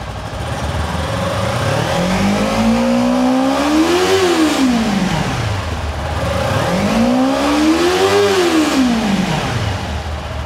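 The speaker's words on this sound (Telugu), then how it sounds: "ఒకలాంటి అడ్రినలిన్ రష్ అనేది మనకి ఆఫర్ చేస్తుంది బండిని రెవ్ చేసేటప్పుడు" A 2025 Kawasaki Ninja 300 engine revs loudly and close, rising twice to a sharp peak and falling back, with a smooth, steady idle between the throttle blips and no talk.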